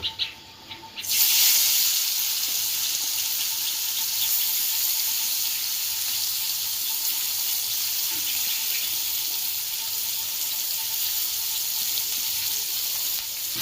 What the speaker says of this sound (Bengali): এবার ম্যারিনেট করা মাছটি আস্তে আস্তে তেলের উপর ছেড়ে দেব।